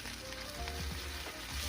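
A Chaliapin steak marinated in onion sears in plenty of smoking-hot oil in a pan, producing a loud, dense, continuous sizzle with small crackling pops.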